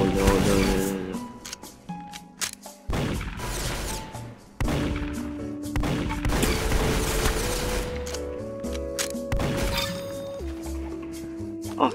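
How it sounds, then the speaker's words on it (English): A ray gun fires in a video game amid dense mechanical clatter, repeated sharp zapping bursts and sustained electronic tones, loud and close with game noise all around. "Oh, the ray gun."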